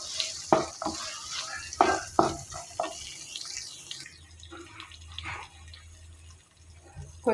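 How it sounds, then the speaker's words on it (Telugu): Ivy gourd pieces frying in a pan with urad dal, close stirring scrapes and clatters over a soft sizzle, fading to a quieter hiss with a faint trickle of water. "దొండకాయ ముక్కలు వేసుకున్నాక 1 నిమిషం పాటు వేపుకోవాలి."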